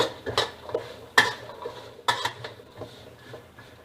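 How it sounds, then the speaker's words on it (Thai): Lemongrass and old galangal dry-roasting in a pan over low heat, with shallots, heard as scattered scraping stir strokes and light clinks of a utensil against the pan, moderately quiet and close, with no talk. "ตะไคร้ ข่าแก่ คั่วให้สุกหอมค่ะ"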